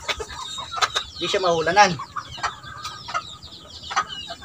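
A red junglefowl (labuyo) chicken clucks in a short burst of calls at mid-distance, set against a backdrop of outdoor ambience and someone speaking briefly.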